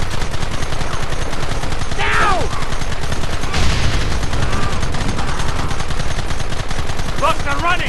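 Gunfire in the Western video game Red Dead Redemption: steady rattling shots under a constant dense mix of game sound and music, with brief sweeping effects between, loud throughout.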